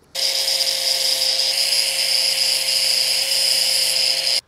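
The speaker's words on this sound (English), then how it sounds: "Now I'll throw on this metal sanding wheel." A power grinder fitted with a metal sanding wheel whines steadily at a high pitch on metal, spinning up abruptly and running continuously with a loud, sustained grinding hiss before cutting off.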